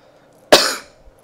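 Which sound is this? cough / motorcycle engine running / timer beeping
cough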